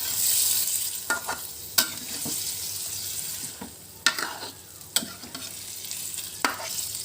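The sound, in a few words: beef simmering and being stirred with spices in a pan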